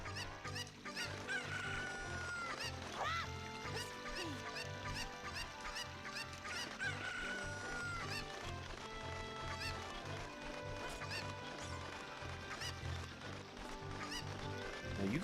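Chickens cluck and squawk repeatedly in the Ship of Harkinian game, a PC fan port, layered over continuous background game music with no talking.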